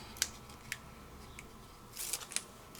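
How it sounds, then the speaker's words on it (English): Adhesive backing peeled from paper in a glitter foil and adhesive kit, a few faint close crinkles and soft tearing ticks over a quiet background, building to a short rustling burst near the end. "it's very easy to just peel"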